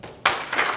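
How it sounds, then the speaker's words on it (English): Audience applause bursts in loudly for a speaker at a cybersecurity research presentation, a brief broadband rush of clapping that swells and holds steady. "Give him a round of applause."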